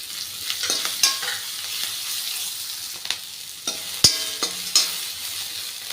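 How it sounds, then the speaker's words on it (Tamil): Spices crackle and sizzle in hot oil while tempering for banana flower stir-fry, with scattered pops and the clink of a spoon stirring in a pan, close by. "தாளிக்க வேண்டிய எல்லாத்தையும் தாளிச்சிக்கலாம்"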